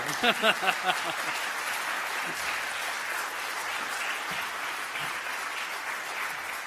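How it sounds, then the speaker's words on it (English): Applause follows a partnership announcement by PLU, MultiCare and WSU College of Medicine, with a few sharp near claps at first, then a softer, thinner spread of clapping continuing steadily across the room. "Yes, I see one applause."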